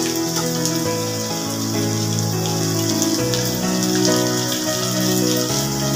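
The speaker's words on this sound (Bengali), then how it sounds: "কারি পাতাটা শুধু তেলে দিলে খুব ছিটকে ওঠে" Curry leaves drop into hot oil in a pan of gondhoraj chirar pulao and crackle and spatter loudly and continuously, a dense close sizzle with no voices over it.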